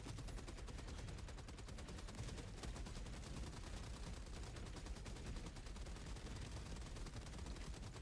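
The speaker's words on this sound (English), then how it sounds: "staccato thump of machine guns firing in unison" Several machine guns fire together in the Helldivers video game, making a dense, continuous, rapid staccato rattle that stays loud and even throughout.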